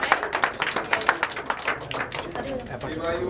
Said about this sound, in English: Hopefully all of you can clap for your friends